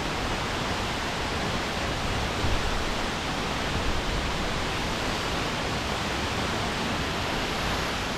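Henrhyd Falls, a waterfall in the Brecon Beacons, Wales: a dense, even roar of falling water fills the scene continuously, steady and close with no voices.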